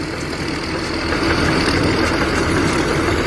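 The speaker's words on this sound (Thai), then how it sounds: "เดินไปเรื่อยๆครับเร่งเครื่องเบาๆครับ เร่งเครื่องแรงไม่ได้ครับ" Farm tractor engine idling steadily and revved gently, a continuous low rumbling drone that swells slightly in loudness partway through, close and alone with no talk.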